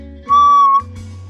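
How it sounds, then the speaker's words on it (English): A steady, pure whistle tone holds for about half a second, loud and clear, then cuts off, leaving a low electrical hum. "Perhaps it's something like a whistle."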